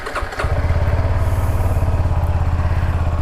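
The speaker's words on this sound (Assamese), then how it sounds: "তো বাইকখন উলিয়ালোঁ, অকণমান ৱাৰ্ম আপ কৰি লওঁ।" A motorcycle engine warms up at idle, a loud, close, evenly pulsing putter that settles in after a brief rough start.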